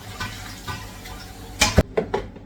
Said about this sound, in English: I just rinse them with water.